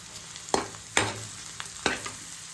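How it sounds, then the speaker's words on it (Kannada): Mushrooms and onion sauté in a pan for a spinach Maggi noodle dish, with three sharp scraping stir strokes spaced about a second apart over a low, steady sizzle up close. "two minutes ಸಾಟೆ"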